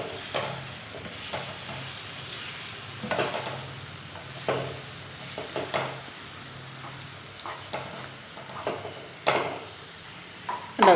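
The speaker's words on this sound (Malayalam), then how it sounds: "അപ്പം നമുക്കിതൊന്ന് ഇളക്കി മസാലയായിട്ട് യോജിപ്പിച്ച് കൊടുക്കാം." Lightly cooked egg being stirred into masala in a pan for egg kothu chapathi, with regular scraping strokes against the pan over a low, steady sizzle, close by and without any talking.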